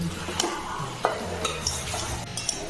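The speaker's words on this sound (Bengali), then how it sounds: "এই দেখো কষানো হয়ে যাচ্ছে" Jackfruit curry sautéing in a pan, a continuous sizzle and fry with a spoon scraping and clinking against the metal now and then, close up and without talk.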